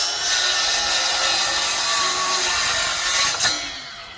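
A cordless power tool cuts through hardwood trim on a storage building, a steady close rasping whine holding for about three seconds before a brief sharp knock and a fading run-down.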